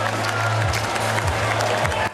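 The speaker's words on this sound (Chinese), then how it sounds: "享受来自全场的起立欢呼" A stadium crowd at the Australian Open men's final gives a standing ovation as Sinner wins, with dense applause and cheering throughout and a low, steady tone running underneath.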